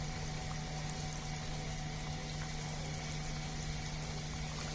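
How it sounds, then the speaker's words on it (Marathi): Balushahi sweets frying in oil over a low flame, giving a faint, steady bubbling hiss with a constant low hum beneath it and no talking. "स्लो वरती या तळून घ्यायच्या आहेत"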